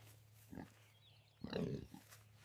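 A small rescued pig lets out a couple of short, close grunts and snorts, the second burst longer and louder, with quiet pauses between.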